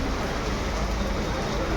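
Heavy rain from a storm falls in a steady, dense hiss with no break, close and loud and unvarying throughout.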